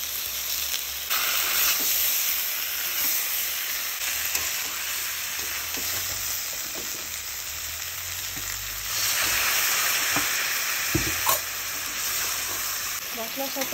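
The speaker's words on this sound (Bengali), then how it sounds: "মশলার সাথে এটা ভালোভাবে কষিয়ে নিচ্ছি" Potatoes with spices for a mixed vegetable dish of potato, pointed gourd and squash fry with a loud, continuous sizzle in a pan, with occasional stirring knocks throughout.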